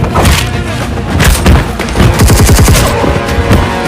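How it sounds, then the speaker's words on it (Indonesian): Gunfire in an action film shootout inside a mafia hideout, a dense loud barrage of rapid shots and booming thumps, with a stretch of fast rhythmic bursts, close and continuous. "Satu persatu anak buah Prakas ditembak mati oleh Fateh sambil terus masuk ke ruangan di mana Prakas berada"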